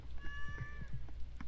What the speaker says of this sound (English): The cat in the game sounds just like the cat.